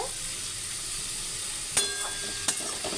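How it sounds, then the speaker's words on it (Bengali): Ingredients for chira pulao sizzle steadily in a hot pan, a continuous close frying hiss with two brief sharp clinks of a utensil against the pan. "আমার এগুলো প্রায় ভাজা ভাজা হয়ে গেছে দেখতে পাচ্ছ"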